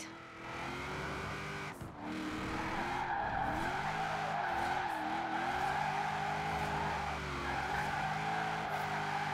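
A car drifts in Forza Horizon 4, its tires skidding and squealing in a long, sustained screech over a revving engine whose pitch wavers as it slides through the corner.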